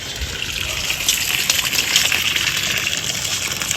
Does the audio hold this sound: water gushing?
yes